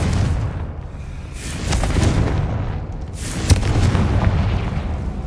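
Confringo explosion spell in the Hogwarts Legacy video game, a few muffled booming blasts and bursts over steady game ambience, with one sharper pop near the end.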